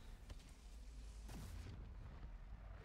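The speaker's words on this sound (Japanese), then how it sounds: "これ、爆発したってことだよね。" A VALORANT explosion booms through a competitive match, a broad low-heavy blast swelling midway and fading, with game noise continuing underneath.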